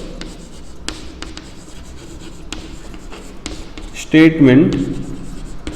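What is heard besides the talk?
writing by hand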